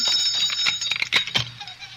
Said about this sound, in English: suddenly there was a violent ring at the gate bell.